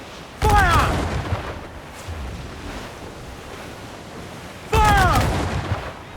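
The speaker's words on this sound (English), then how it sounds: "Fire! Cannon ready! Fire!" Two loud ship cannon blasts in Assassin's Creed Black Flag, one near the start and one toward the end, each a sharp boom with a ringing whistle tail, over steady ocean wind and surf.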